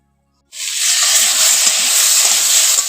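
Curry vegetables sautéing with turmeric in a kadai, a loud, steady sizzling hiss that starts abruptly and holds evenly throughout.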